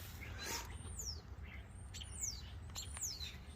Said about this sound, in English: All the birdies are enjoying their breakfast.